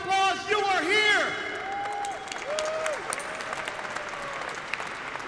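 A LiveWorx 2019 conference audience for digital transformation claps loudly for several seconds, with sustained tones and a voice over the start. The applause then thins into a lighter, continuing patter.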